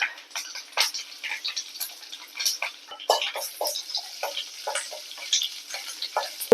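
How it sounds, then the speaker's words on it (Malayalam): Mustard seeds, chillies and curry leaves sizzle and crackle in hot oil for a ginger tamarind curry tempering, with dense irregular pops and spits up close and no talking. "നമുക്കിതിലേക്ക് കടുകിട്ട് കൊടുക്കാം മുളക് ഇട്ട് കൊടുക്കുക നമുക്ക് കറിവേപ്പില ഇട്ട് കൊടുക്കുക"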